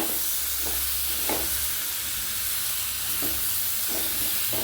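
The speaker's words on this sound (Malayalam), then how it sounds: "മസാലയിട്ട് നന്നായിട്ട് മിക്സ് ചെയ്യുക." Chopped green mango, tomato and masala are stirred in a hot pan with coconut oil, a constant loud sizzling hiss with several soft scraping strokes of a spoon at uneven intervals.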